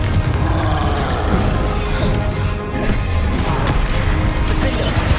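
A Confringo blast spell goes off in Hogwarts Legacy amid a dense, loud wash of combat noise, with booming, crashing impacts rolling almost without pause.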